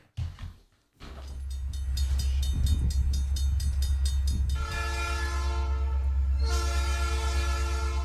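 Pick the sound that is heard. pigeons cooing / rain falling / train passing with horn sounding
train passing with horn sounding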